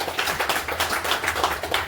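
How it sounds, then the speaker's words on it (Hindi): Audience clapping for a presenter at a weekly business meeting, a steady patter of many hands close by, no voices over it. "तो प्रदीप जी के लिए एक जोरदार ताली होनी चाहिए."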